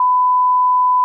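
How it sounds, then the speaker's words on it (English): A censor bleep fills the whole moment, one steady, loud pure tone that starts and stops abruptly. "There's gonna be so many beeps."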